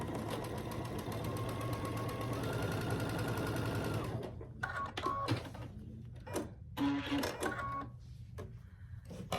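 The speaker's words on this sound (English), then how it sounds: "So I'm just stitching corner to corner." A sewing machine stitches a quilt corner to corner in a rapid, steady whir for about four seconds, then stops and starts in short bursts.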